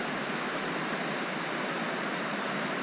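A high, fast-flowing winter trout stream rushes in a steady, loud, broadband roar that fills the whole stretch without break or voices.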